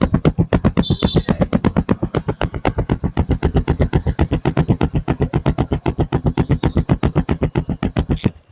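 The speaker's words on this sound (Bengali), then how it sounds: "আর এদিকে যদি আমি সাইলেন্সারের সাউন্ড শুনে তাহলে শুনুন।" Exhaust silencer of a Bajaj Discover 135 motorcycle after a tune-up, recorded close: a steady, even train of rapid thumping putts at idle, loud and evenly spaced throughout, ending abruptly.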